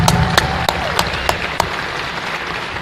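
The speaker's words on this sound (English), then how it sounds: "Can you give them a big round of applause, class of 2024?" Banquet audience applauding the 2024 Hall of Fame inductee class at the Hammond Sports Hall of Fame ceremony, a loud sustained round of clapping with a few sharp claps standing out near the start.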